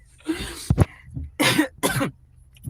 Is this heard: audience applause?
no